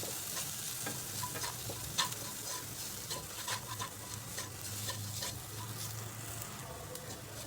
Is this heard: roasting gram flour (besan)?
yes